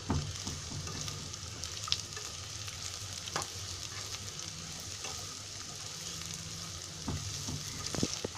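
Carrots and green beans fry in a pan for Konkani veg pulao, with a steady close sizzle and occasional stirring scrapes and no talking.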